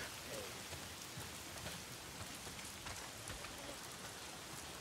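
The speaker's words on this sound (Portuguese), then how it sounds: "Tá sempre chovendo." Steady rain falls in the video game Days Gone as a dense, even hiss of drops on surfaces, faint and continuous without a break.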